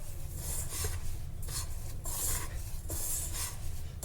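Poha laddu mixture of flattened rice and sweetener being mixed by hand in a bowl, a steady gritty rubbing and rasping in repeated strokes, close up with no talk.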